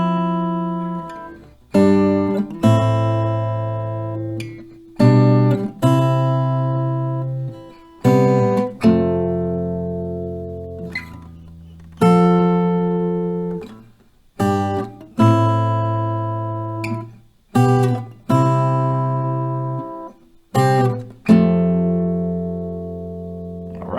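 Acoustic guitar chords of a song strummed in a steady progression, each chord ringing out and fading before the next strum, close and clear with no voices.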